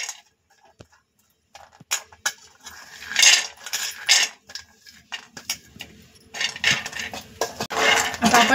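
Raw peanuts tipped into a pan for dry roasting make bursts of hard rattling and clattering, with short scattered ticks in between; no one speaks.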